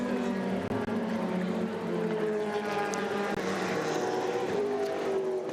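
Race car engines run behind an announcer at a SpeedTour event at Mid-Ohio, a layered mechanical drone with rising and falling pitch under crowd noise and a voice over the PA.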